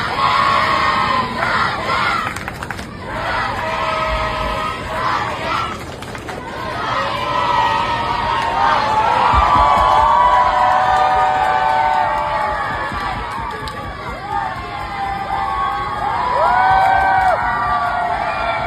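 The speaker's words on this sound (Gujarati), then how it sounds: "તેમણે સચિનની બૂમો અને તાળીઓ પાડી હતી" Young cricketers at a cricket academy shout, whoop and cheer loudly for Sachin Tendulkar, an excited crowd of high voices rising and falling close by, with scattered clapping and chatter mixed in.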